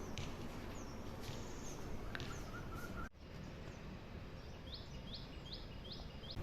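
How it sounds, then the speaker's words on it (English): Faint birds chirp at sunrise in short repeated calls over a steady outdoor hiss, with a quick series of tweets near the end. "Now I'll take you to the terrace for some bird watching and listening"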